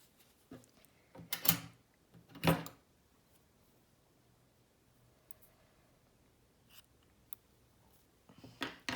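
Scissors snip through crochet yarn at the end of a beanie's finishing round. A few short, close cuts sound in an otherwise quiet room, with faint handling noises between them and no talk.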